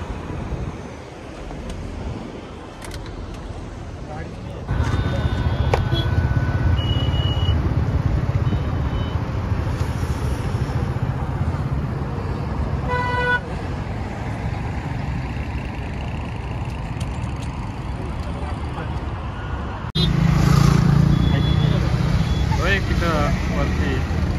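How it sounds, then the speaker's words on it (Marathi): Road traffic stands in a jam at a hill viewpoint on the way to Ekvira, with idling engines, passing vehicles and reversing beeps, while people talk nearby throughout. "ट्रॅफिक आहे"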